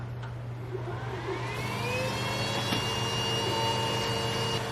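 WeCreat Vision 20 watt all-in-one laser cutter running a cut, giving a steady close whirring hum with a low drone and faint rising whine tones, continuous throughout with no talk.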